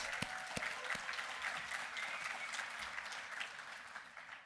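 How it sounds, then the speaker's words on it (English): A conference breakfast crowd applauds steadily with dense, continuous clapping that fades slightly toward the end. "Give her a round of applause."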